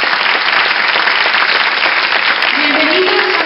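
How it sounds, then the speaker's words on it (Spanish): Audience applause at a gala of the association Anude in a large hall: a loud, dense, sustained wash of clapping with a voice rising briefly near the end. "señoras y señores, un fuerte aplauso para Ramón Villar, presidente de Anude."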